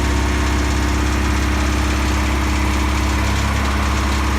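A 1984 Pontiac Fiero Indy engine idling with a faint rattle, a steady close, loud low rumble and drone running unbroken with no talk.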